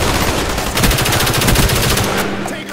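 Dense automatic gunfire in a Call of Duty Black Ops multiplayer match rattles fast and loud, a continuous stream of close shots over a noisy battle background.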